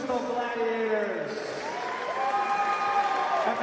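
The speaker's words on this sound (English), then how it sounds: "Ladies and gentlemen, big round of applause for these professional gladiators." A crowd at a professional fight claps and cheers after the bout, a steady wash of applause that stays under an announcer's amplified voice.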